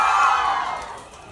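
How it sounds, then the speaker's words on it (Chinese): An audience at an SK-II brand event in Shanghai lets out a brief swell of cheering that peaks early and then fades over about a second. "大家掌声来。"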